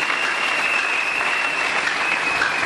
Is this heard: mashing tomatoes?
no